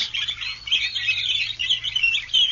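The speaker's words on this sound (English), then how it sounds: "And the birds." Dense chorus of birds singing and chirping continuously at the Indiana dunes on Lake Michigan at sunrise, overlapping calls filling the air at steady moderate loudness with no voices.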